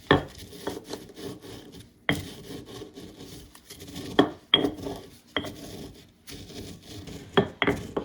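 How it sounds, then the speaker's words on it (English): Dried herbs are ground into powder with a mortar and pestle: repeated scraping, rubbing strokes and sharp knocks at an irregular pace, close and fairly quiet. "we are going to grind it into a fine powder with the pestle"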